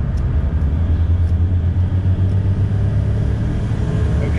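Close, loud and steady deep rumble from the engines of a 1991 Formula 419 SR-1 powerboat making close to 1,000 horsepower as it gets under way, a constant low drone with no breaks.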